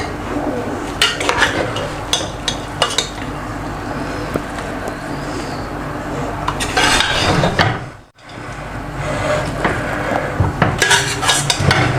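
Beef haleem is stirred and mixed in a cooking pot, a spoon scraping and clinking against the metal in repeated close strokes with a brief pause near the end.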